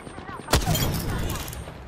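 A single sharp Triple Take rifle shot cracks out in Apex Legends, followed by a reverberant wash of combat noise that lingers for over a second.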